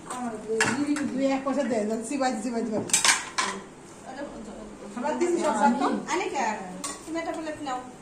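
Plates and cutlery clinking and clattering close by as places are set for eight people at a family gathering at home, while people talk over the sounds.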